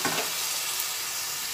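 Cauliflower and soaked raisins for dom phulkopi sizzle loudly in a frying pan as they are stirred together, a steady close hiss with a brief stronger burst at the start.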